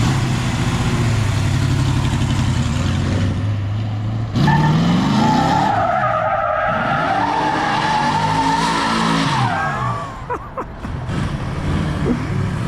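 1971 Mustang on fresh tires laying rubber: a loud, close engine roar with a long sustained tire screech that rises and wavers, then fades into rumble.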